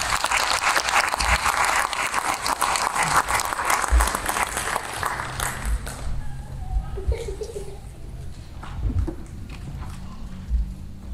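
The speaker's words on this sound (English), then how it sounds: "Would y'all give it up for Tim?" A church congregation claps and cheers loudly for a speaker called up front, the applause fading after about six seconds into scattered claps, murmurs and light laughter.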